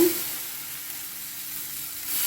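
Steady, soft hiss of a heated pan with ragi and legume dosa batter, made from finger millet flour, chickpeas and green gram, sizzling; a faint even crackle with no talk.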